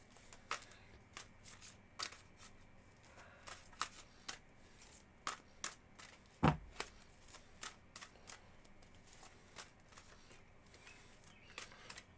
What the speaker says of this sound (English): I'm going to start to do the shuffling thing I do.